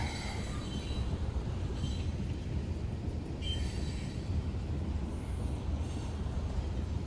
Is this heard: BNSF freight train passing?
yes